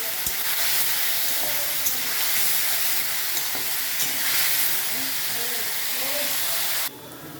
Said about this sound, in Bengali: আলুটা বেশ ভালো করে ভেজে নেবে, একদম মজমজ করে আলুটা ভেজে নেবে।